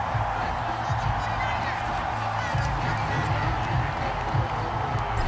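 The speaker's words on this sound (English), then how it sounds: "This crowd alive again." A stadium crowd roars in a steady, dense wash during a Madden 24 football game between the San Francisco 49ers and Pittsburgh Steelers, rising as a fourth-quarter comeback ties the score, with a commentator's voice faintly mixed in.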